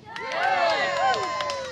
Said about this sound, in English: I know it's not a huge crowd, but I know we can get a little bit louder than that.